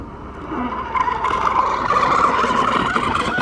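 A brushless RC catamaran, the Pro Boat Veles 29, running at full throttle on water, its high-pitched motor whine rising and holding loud and steady as it speeds along.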